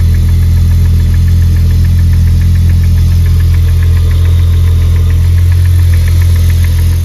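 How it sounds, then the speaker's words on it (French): A loud, steady BMW E36 engine idle with a fast, regular ticking knock running throughout, close and continuous with no voices. "En la démarrant, j'ai eu un petit claquement moteur."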